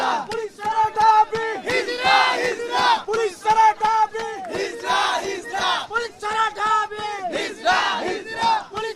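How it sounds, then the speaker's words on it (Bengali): Seven College students protesting against Dhaka University students chant slogans together, a loud, close crowd repeating short rhythmic calls in steady bursts with brief pauses between lines. "তারা বিভিন্ন স্লোগান দিয়ে যাচ্ছেন ঢাকা বিশ্ববিদ্যালয়ের শিক্ষার্থীদের বিরুদ্ধে"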